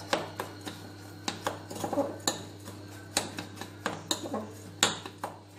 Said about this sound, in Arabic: من بعد ما ذوبت الزبده ديالتي غادي نضيفها على هاد المناطق على هاد البسكوي ونبدا نخلط